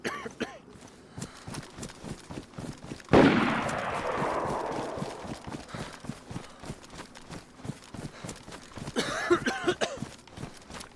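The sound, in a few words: gunshots in DayZ video game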